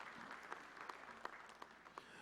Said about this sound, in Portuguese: Uma salva de palmas ao nosso Coronel Tércio.